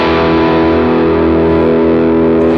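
Electric guitar through a distorted lead amp model, a loud, dense sustained chord with thick saturated crunch ringing steadily throughout.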